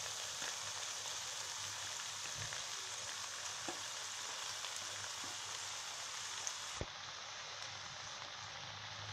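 Steady broadband sizzle of fried potatoes and cabbage cooking in tomato for a fish-head cabbage dish, a continuous close frying hiss with a few faint clicks and one sharp knock near the end, no voices.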